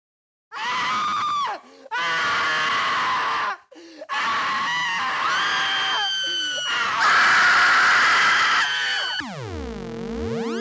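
Loud, shrill screams from a promotion for the 1959 horror film The Tingler, coming in long bursts with brief gaps, and ending in a sweeping electronic tone.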